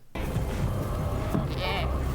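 A sheep bleats once in a television drama scene set in a medieval fantasy world, a brief nasal call rising over a steady bed of background score and ambience.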